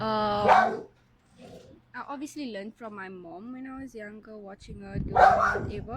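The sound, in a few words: dog barking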